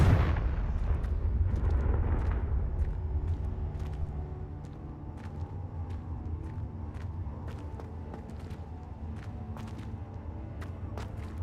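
A fiery Confringo spell blast from the Hogwarts Legacy video game bursts loudly at the start, then settles into a sustained rumbling bed scattered with sharp crackling impacts and debris-like clicks.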